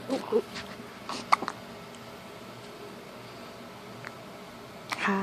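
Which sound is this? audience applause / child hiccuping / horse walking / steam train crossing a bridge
child hiccuping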